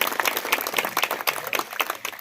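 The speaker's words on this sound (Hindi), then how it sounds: "जनाब मंजूर नाडकर साहब यहाँ मौजूद हैं, तो उनके लिए जोरदार तालियां हो जाएं।" A steady burst of applause from a crowd, many hands clapping together in a dense, continuous patter with no voices over it.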